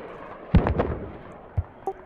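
Mortar and artillery fire in the tactical shooter Squad: a heavy thump, a rumbling follow-up, then two softer, more distant booms over steady battlefield ambience.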